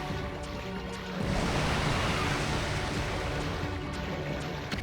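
Ocean waves swell in the video game Okami, a steady broadband wash of surf that rises after the first second and then holds loud and continuous with no voices.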